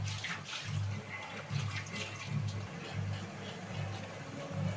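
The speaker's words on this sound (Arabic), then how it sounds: "اشطف السكينه بس" A kitchen tap runs while a knife is rinsed under it, a soft steady water hiss with low background hum and no speech.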